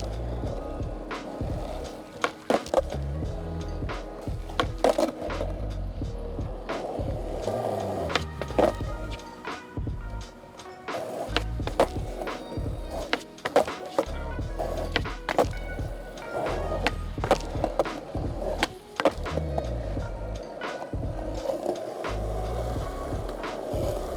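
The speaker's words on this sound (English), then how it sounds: "Let's get skating." Skateboard riding on a chocolate twin-tail board fitted with hard bushings, wheels rolling steadily with repeated sharp clacks and thumps of the board hitting the ground, no talking.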